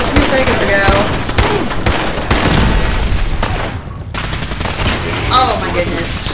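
Turret gunfire in Fallout 4, rapid bursts of automatic shots and booms that rattle on loudly and almost continuously, with a player talking over parts of it and a short lull midway.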